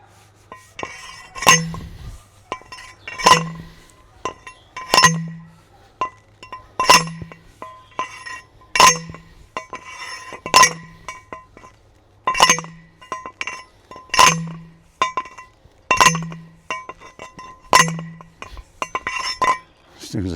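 A metal garden post being pounded into the ground to hold tomato wire, with about eleven sharp, ringing clanks struck in a steady rhythm roughly two seconds apart, close and loud outdoors.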